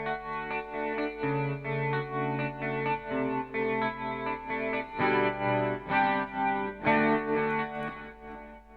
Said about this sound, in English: I'm going to mute the Marshall so that you hear the Fender by itself.